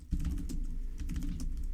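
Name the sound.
typing router commands on a computer keyboard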